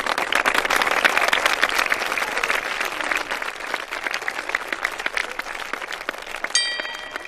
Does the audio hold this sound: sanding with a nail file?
no